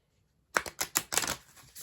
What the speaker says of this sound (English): I'm going to shuffle these right here.